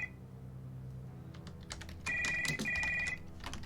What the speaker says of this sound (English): Behind the door, a phone starts to ring.